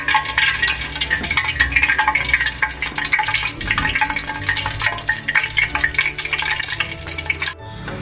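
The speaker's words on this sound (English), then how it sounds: "So let's start frying." Goan kormola, also called kulkul, small gnocchi-shaped Christmas sweets, fry in hot oil with a loud, dense, continuous sizzle that cuts off just before the end.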